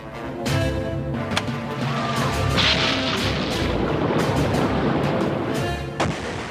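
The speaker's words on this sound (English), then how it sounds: "When the people heard the explosion and saw the fire offshore" A U-boat torpedo attack on the fuel tanker SS Gulf America offshore, sharp blasts followed by a long, loud rumbling roar that fills the scene, with further booming impacts near the end.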